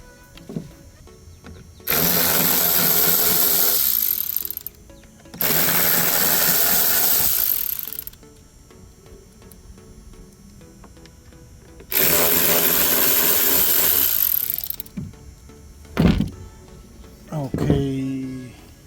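A power tool spins out bolts under the dashboard of a Toyota Camry during heater core and AC evaporator work, three loud sustained whirring bursts of a few seconds each with quieter pauses between, then a few short clicks and knocks.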